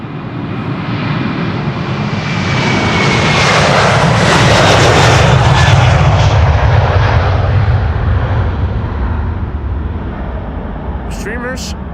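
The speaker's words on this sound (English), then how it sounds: "Delta Airlines Flight 73 to Atlanta, Georgia is on the move. It's an A330-300." A Delta Airlines Airbus A330-300 jet takes off at Amsterdam Schiphol Airport, a loud, broad engine roar that builds and peaks mid-way, then slowly fades as the aircraft climbs away.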